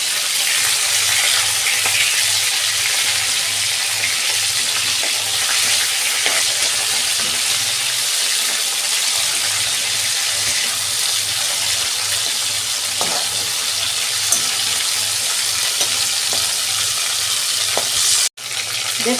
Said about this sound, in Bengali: মাছগুলো বন্ধুরা আমি বেশি ভাজবো না, এই যে উল্টে দিচ্ছি মাছগুলো।